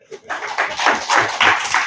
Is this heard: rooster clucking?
no